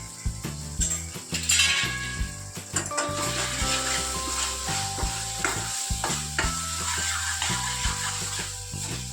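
Spinach curry masala with gram flour and cumin-coriander powder cooks in a pan, a steady close sizzle broken by repeated stirring scrapes and light clinks of a spoon against the metal, with no talk.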